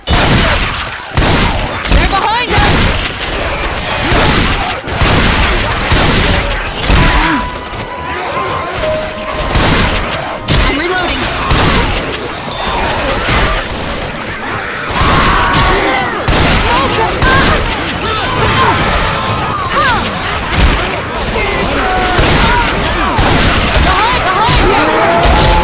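Gunfire in Left 4 Dead 2 multiplayer on the Fatal Freight campaign: dense, continuous volleys of shots and crashes for the whole stretch, loud and close, with players' voices mixed in.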